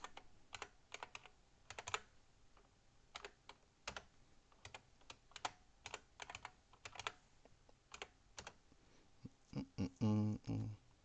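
Close keystrokes on a computer keyboard tap out a password in an irregular run of quick, faint clicks, ending in a brief cluster of louder presses.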